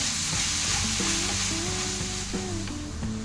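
Chopped onion, green chilies and ginger garlic paste sizzle steadily in a hot pan while a spoon stirs and scrapes through them, close and continuous with no talk.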